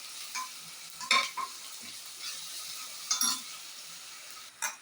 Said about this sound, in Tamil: ஆட் பண்ணிட்டு அதோட பச்சை வாசனை போகிற அளவுக்கு வதக்கிக்கலாம்.